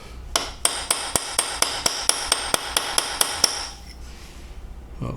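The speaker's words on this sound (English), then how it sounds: "I have here this chisel, and I'm just gonna put like a flat surface in there" Steel chisel struck by a hammer while prying a flat surface into a part on a neglected R53 Mini Cooper S, a dozen sharp evenly spaced metallic blows in quick succession, close and loud, then a quiet pause.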